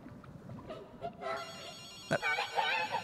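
A telephone rings in the video game Ghostwire Tokyo, repeating ring bursts heard faintly alongside game audio, with a voice talking over part of it.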